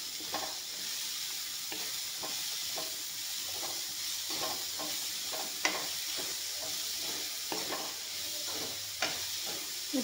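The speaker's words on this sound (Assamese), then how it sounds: "এতিয়া মটৰখিনি অলপমান ভাজি ল'ম, যিহেতুকে নিমখখিনি দিছোঁ।" Peas frying with salt in a pan, a steady sizzle and hiss running throughout while a spatula scrapes and stirs in repeated short strokes, close and fairly loud with no talking.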